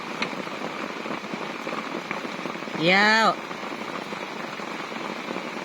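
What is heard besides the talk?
rain during a big storm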